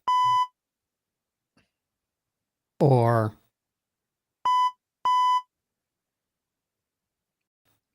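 Three short, steady electronic beeps at one pitch, spaced apart, with a brief spoken word between the first beep and the last two.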